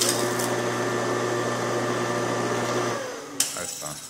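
A centrifugal water pump motor hums steadily at full speed with a constant droning whine, then winds down and cuts off, followed by a sharp clunk and faint rattling.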